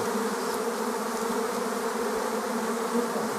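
A bee swarm, drones among the workers, hangs near an apiary in Tetiiv, filling the air with a dense, continuous buzzing drone, close and steady with no talk.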